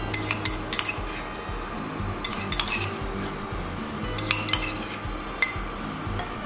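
A spoon clinks and scrapes repeatedly against a bowl while jamun is mixed into a saucy dressing, with sharp close metallic taps at an irregular rhythm.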